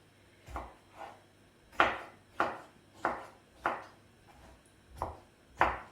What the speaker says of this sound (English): So I'm going to chop it really with a knife like you would do onions.